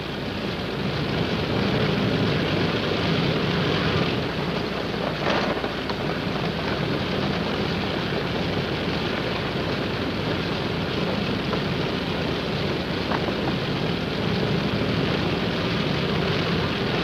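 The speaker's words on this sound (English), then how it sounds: "the casualties go out by plane" A propeller plane carrying wounded out of a frozen reservoir in wartime Korea in 1951 drones steadily and fairly loud throughout, a continuous broad engine roar with no voices over it.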